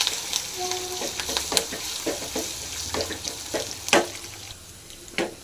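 Curry leaves and crushed garlic fry in a pan for a Tamil cabbage kootu, a soft steady sizzle broken by a few sharper crackles and spatula scrapes, close and unaccompanied by any voice.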